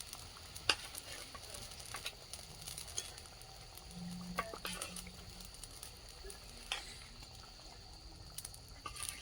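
Fish frying in hot oil gives a faint, steady sizzle with occasional soft pops and stirring scrapes in a home kitchen, no talking over it.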